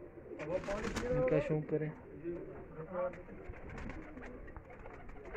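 Flying pigeons kept on a rooftop coo low and continuously, close by, under a voice.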